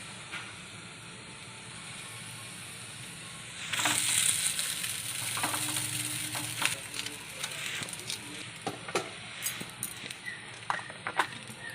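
Egg chow mein noodles sizzle and hiss in a hot pan, growing louder partway through, with repeated sharp scrapes and clicks of stirring up close.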